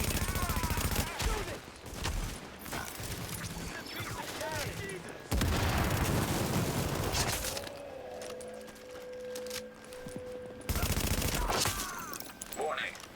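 Automatic gunfire crackles through a tense firefight in The Division, loud bursts interrupted by quieter stretches with a steady electronic tone, then a final volley; a voice speaks during it.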